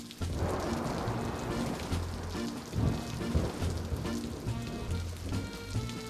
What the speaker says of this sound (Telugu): వర్షాకాలంలో వర్షం పడే తీరాలి.